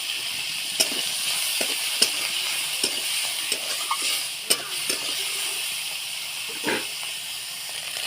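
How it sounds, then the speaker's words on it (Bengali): Prawns seasoned with salt and turmeric fry in a pan, giving a steady close sizzle and hiss broken by a few sharp clicks and scraping stirs spread through the clip. "চিংড়ি মাছটা ভালো করে ভাজা হয়ে গেছে"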